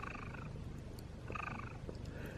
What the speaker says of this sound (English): Can you hear the cat purring?